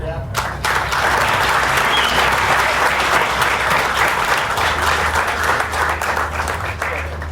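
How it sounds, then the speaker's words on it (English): A studio audience bursts into loud, sustained applause after a performance, dense clapping that holds steady throughout with faint voices mixed in. "give him a round of applause"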